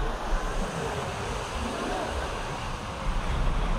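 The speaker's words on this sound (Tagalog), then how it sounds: "Bumubuhos na ulan." Heavy rain pours down outdoors as a steady, dense roar of broadband noise with a gusty, rumbling low end, no pauses throughout.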